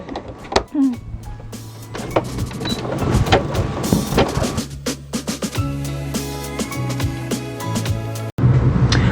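A home embroidery machine stitches a children's face mask design in a hoop, giving a steady mechanical whir with rapid rhythmic needle clatter and motor tones throughout, ending with a brief stop and restart.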